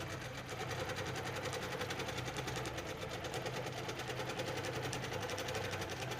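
A sewing machine stitches fabric along a wave quilting ruler with a fast, even mechanical whir and rapid needle ticking, running close and continuous with no talking.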